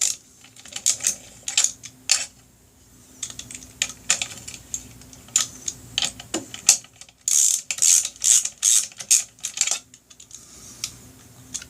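A ratchet torque wrench clicks in rapid irregular bursts while tightening the bolts of a BigDog 9-plate Kevlar clutch, with sharp close metallic ticks and a denser run of clicks near the end.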